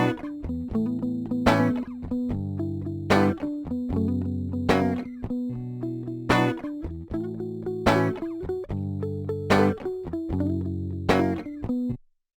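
An electric guitar part with automated panning and no effects, in a beat, plays repeating chords under steady sustained low notes, with sharp bright strums recurring about every one and a half seconds before stopping abruptly.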